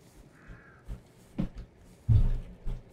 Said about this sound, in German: Also hinter uns sind Krähen, aber ich glaube, die Krähen ganz normal.